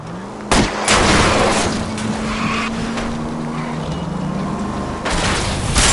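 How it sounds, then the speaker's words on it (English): Sharp gunshots crack over a speeding car's engine drone and tire noise during a chase in L.A. Noire, with one loud burst near the start and another near the end, and the engine whining steadily between them. "I'll try to shoot out his tires"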